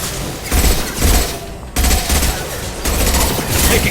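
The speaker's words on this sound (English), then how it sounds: "Taking fire!" Rapid volleys of gunfire during a firefight on Omega in the video game Mass Effect 2, loud and close, arriving in dense bursts separated by short breaks.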